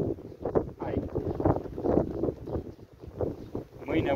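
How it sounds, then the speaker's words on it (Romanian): Gusty wind buffets the microphone outdoors beside beehives, coming in repeated rough surges that rise and fall close by throughout. "Astăzi bate vântul și deranjează foarte mult."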